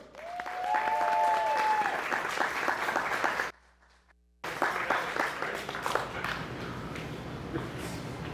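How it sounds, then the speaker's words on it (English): Audience applause and cheering for a comedian at a live comedy show in a brewpub, a loud dense wash of clapping with whoops. It cuts out briefly mid-clip, then resumes just as strong. "give a huge round of applause for the one and only Ray Ford"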